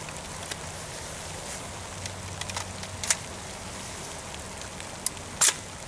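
Rain falls steadily on an outdoor shooting range, a soft, even hiss that holds throughout, with a few faint sharp clicks and taps near the end and no talking.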